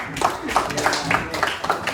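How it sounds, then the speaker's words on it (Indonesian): Brief scattered clapping from a small group in a classroom, a few uneven claps over about two seconds with a faint voice underneath. "Ya, tepuk tangan Mbak."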